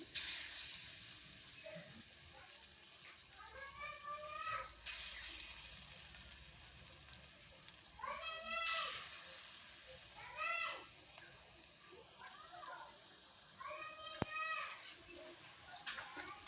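Lentil and thankuni leaf fritters frying slowly in hot oil in a wok, a broad steady sizzle running throughout with bird chirps and soft clatter breaking in over it.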